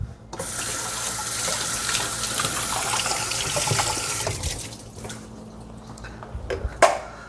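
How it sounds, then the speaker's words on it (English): Kitchen tap runs to rinse a spoon in the sink, a steady close splashing stream for several seconds that tapers off, ending with a small clink. "Let me rinse my spoon."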